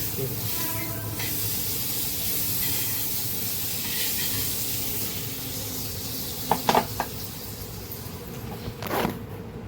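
Butter hisses steadily on a hot griddle at close range. A few clicks and scrapes break in near the end.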